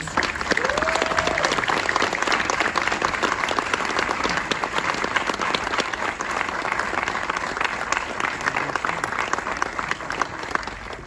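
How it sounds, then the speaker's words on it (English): An audience at a documentary screening Q&A breaks into sustained applause, steady dense clapping throughout with a crowd murmur beneath it. "Let's have a round of applause for these guys."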